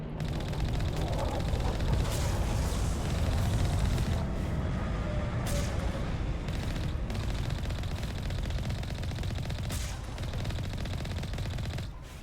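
Continuous rapid automatic gunfire from the Mako vehicle in Mass Effect Legendary Edition, dense and steady throughout with engine rumble underneath and occasional sharp bursts.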